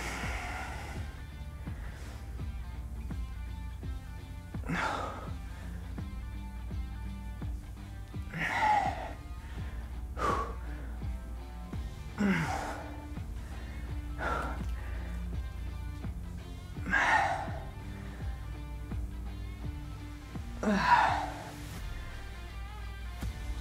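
Heavy, uneven breathing during a resistance band leg workout, a series of loud gasping breaths spaced a few seconds apart over low background music, close to the microphone.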